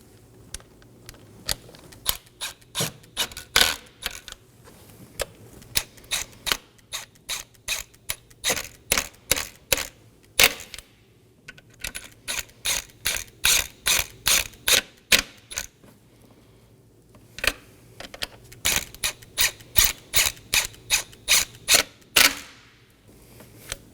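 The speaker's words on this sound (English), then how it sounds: "I'm going to snug down my intake manifold fasteners to the sequence you see on screen." A ratchet snugging down intake manifold fasteners on a Nissan Maxima, rapid metallic clicking in repeated bursts with short pauses between them, close and crisp.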